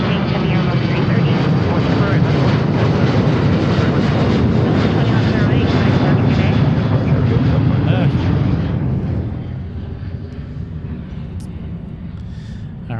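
A Delta Airbus A330-900 widebody jet at Seattle airport roars loudly and steadily with broad engine noise, then the roar drops away to a quieter distant rumble near the end.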